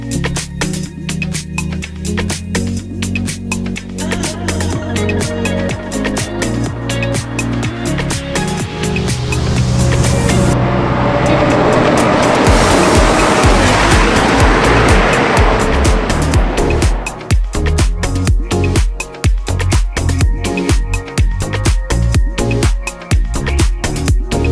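McLaren Senna sports car engine roaring close up through gear changes, building to a sustained loud surge midway before settling into a steady driving drone.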